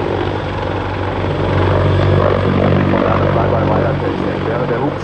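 A Sikorsky CH-53K heavy-lift helicopter performs a flying display at an air show, its loud, steady rotor and turbine roar filling the air throughout under a narrator's voice.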